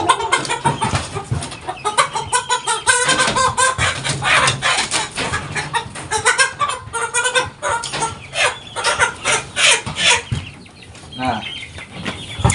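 Kampung chickens cluck and squawk close by throughout as one is weighed, with some wing flapping and someone talking over them.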